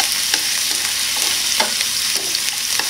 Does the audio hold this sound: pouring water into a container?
no